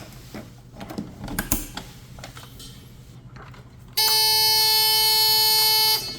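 A buzzer attached to a UTP wall jack on a connected telephone line sounds a steady harmonic-rich tone for about two seconds, loud and alone, after a stretch of faint handling clicks.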